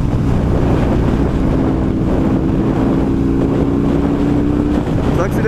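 A Husqvarna 900 Nuda motorcycle accelerates on a dry road, its engine drone rising slightly beneath loud, constant wind rush over the microphone.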